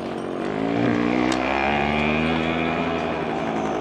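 Motorcycles circle through a park in Kabul during Eid celebrations, their engines giving a continuous loud droning roar that rises and falls in pitch as they pass close by.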